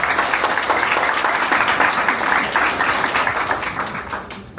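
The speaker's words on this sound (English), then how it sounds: "one more round of applause for the candidates" A crowd at a Detroit mayoral candidates' community forum claps and applauds loudly and steadily for several seconds, fading slightly at the end.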